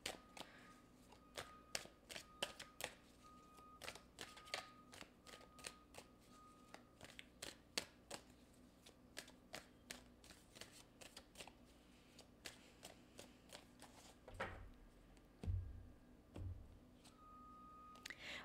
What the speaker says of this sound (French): Je vais clarifier avec des tarots.